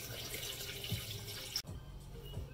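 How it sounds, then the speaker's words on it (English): Basmati rice rinsed under running water from a tap, a steady close stream of water that cuts off abruptly partway through, then resumes faintly. "before you cook the rice, you wanna rinse it out with some water to get rid of like excess starch"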